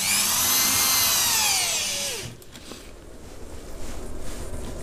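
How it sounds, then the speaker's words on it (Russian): An electric drill bores a hole through a homemade bait retriever, a loud close whine that rises in pitch, then winds down after about two seconds and gives way to quiet handling sounds. "Итак, лучше все это дело просверлить дрелью."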